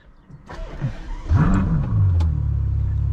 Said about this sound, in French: On redémarre le V12